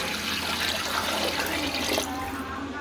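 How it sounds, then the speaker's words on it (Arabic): Water poured into a pot of frying onion and tomato paste, a continuous rushing splash that fills the whole stretch and cuts off near the end, close and fairly loud. "نديها بقى مية،"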